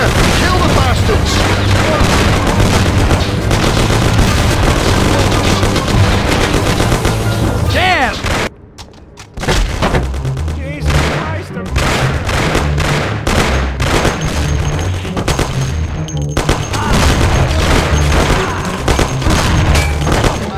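Heavy gunfight in the Mafia video game, with dense, loud, continuous gunfire and booming shots that pause briefly around the eight-second mark before rapid bursts resume. Voices shout over the shooting.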